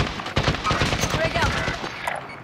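Rapid bursts of automatic gunfire in a multiplayer shooter video game, loud and close, crackling almost continuously across the whole stretch with dense overlapping shots.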